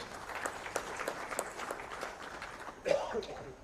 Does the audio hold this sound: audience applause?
yes